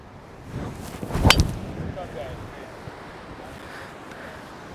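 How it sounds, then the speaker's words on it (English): Strong gusty wind roars across the microphone on a golf course, peaking in a loud blast early on before settling into a steadier rush. "when you're going into the wind, especially big gusts like this"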